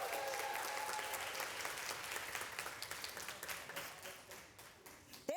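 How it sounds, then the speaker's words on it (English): An audience applauds Suni Lee at a Coach Story Sessions event, with steady, dense clapping that carries throughout and thins slightly toward the end. "Can I get a round of applause for Suni Lee?"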